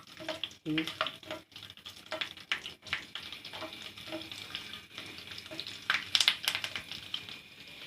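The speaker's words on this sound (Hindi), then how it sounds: "मिर्चें और ज़ीरा डाल रही हूँ। थोड़ा इसको फ्राई करें ताकि इसकी अच्छी तरह खुशबू आ जाए।" Curry leaves, whole chilies, black peppercorns and cumin frying in oil in a pan for Hyderabadi tomato chutney, a faint crackling sizzle with scattered pops and stirring scrapes, close but quiet.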